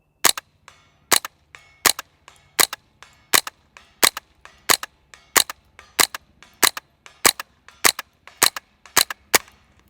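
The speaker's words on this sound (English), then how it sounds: "Let's shoot some 22 tracers." Rapid series of about fifteen suppressed .22 tracer rifle shots through a Gemtech Integra suppressor, sharp evenly spaced cracks with short tails, fired alone without talk.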